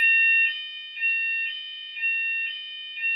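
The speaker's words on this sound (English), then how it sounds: "Even if there's the alarm, the fire alarm in the room." A fire alarm rings indoors in a steady repeating pattern, about two high electronic pulses per second, with no talking.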